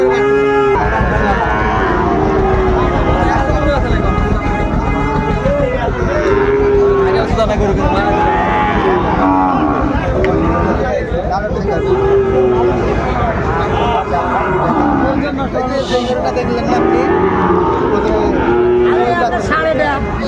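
Sahiwal-breed bulls and calves moo again and again at a busy cattle market in Ambari, Dinajpur, Bangladesh, loud and close over steady crowd chatter and people talking.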